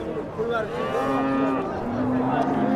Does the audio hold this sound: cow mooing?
yes